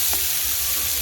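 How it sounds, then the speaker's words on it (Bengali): Garlic and onion frying in a pan give off a steady, close sizzle with a soft broadband hiss throughout this brief moment. "রসুনটা দিয়ে ভালো করে ভাজা ভাজা করে তারপরে পেঁয়াজটা দিয়ে দিলাম"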